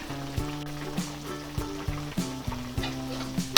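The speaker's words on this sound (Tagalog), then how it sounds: "Ngayon po ay hahaluin na natin to para yung lasa ng oyster ay malagyan po siya lahat." Beef with broccoli stir-fried in a frying pan after oyster sauce is added, with a steady sizzle and repeated scraping, clattering stirring strokes close by, with no voices.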